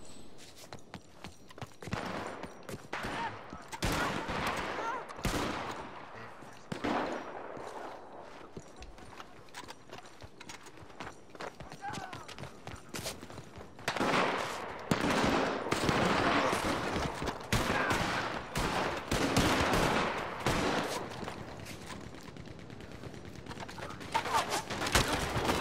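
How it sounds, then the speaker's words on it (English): Bursts of chain gun fire in the Red Dead Redemption 2 video game come in rapid rattling volleys across a long shootout, mixed with horse hoofbeats and other game sounds, with some talk over them. "This chain gun."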